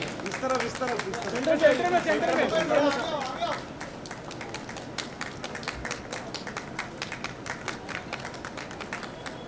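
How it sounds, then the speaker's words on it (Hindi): Crowd clapping at a plant festival event in Mumbai, dense moderate applause with some talk over the start, continuing steadily. "एक बार जोरदार तालियां।"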